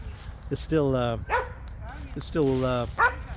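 A dog barks twice, close and loud, each bark a drawn-out, whining howl-like yelp separated by a short pause.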